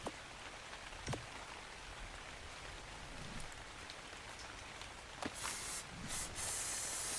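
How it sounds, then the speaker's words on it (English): A can of bug spray hisses in the video game Ark Survival Ascended as a steady continuous spray with a few sharp clicks and bursts, fairly faint and with no talking. "I forgot you had the bug spray."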